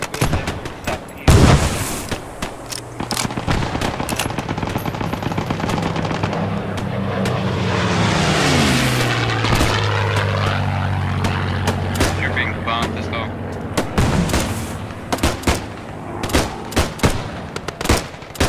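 WWII aircraft strafe in the video game Post Scriptum, a droning propeller plane sweeping overhead as bursts of machine-gun fire crackle and rattle, with sharp gunshots before and after the pass.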